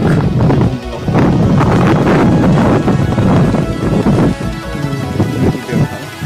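Strong outdoor wind on a sunny day, loud rumbling gusts buffeting the microphone almost continuously, with brief lulls between surges.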